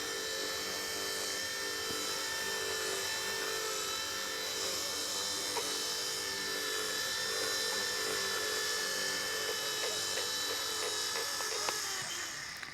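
A Bell 206 C138 RC helicopter's rotor whines steadily and up close through a smooth landing, a high buzzing drone that barely shifts in pitch or loudness and plays alone.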